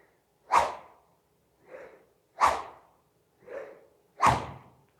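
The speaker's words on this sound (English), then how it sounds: "Now, try to make the whoosh sound earlier here." A golf club swings back and forth repeatedly, producing three sharp, loud whooshes alternating with two softer swishes in an even rhythm, close by with near silence between them.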